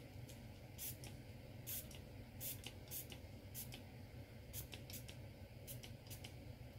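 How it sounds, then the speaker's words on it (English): Isopropyl alcohol sprayed onto resin coasters from a spray bottle, about ten short, sharp hissing spritzes at uneven intervals over a steady low background hum, close by and with no talk. "I am going to give them a spray with isopropyl alcohol."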